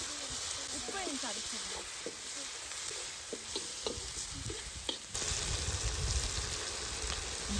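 Tomato, green chili, curry powder, chili flakes and salt sautéing in a pan for a Sri Lankan lunch dish, a soft continuous sizzle with stirring scrapes and clicks, close but fairly quiet, with a brief voice in the background.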